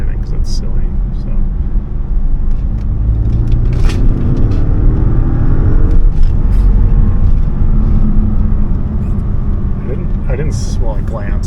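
A 2013 Audi A8L 4.0T pulling hard in third gear, a loud, dense low engine rumble building steadily from inside the cabin, with a voice talking over it.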